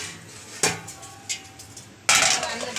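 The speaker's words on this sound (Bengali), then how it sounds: "এবার তরকারি ঢাকা দিয়ে দিই।" A lid goes onto a pot of curry made with goat fat and taro stems, giving a few sharp metallic clanks spread over a couple of seconds, the last one louder and followed by a steady hiss from the pot.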